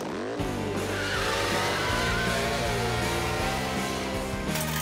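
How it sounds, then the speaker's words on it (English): Cartoon model truck with a racing engine revs hard up a ramp and launches off it, a loud continuous whining motor with rising and shifting pitch, skidding tire noise and music running underneath throughout. "Want to see a real model truck take that jump?"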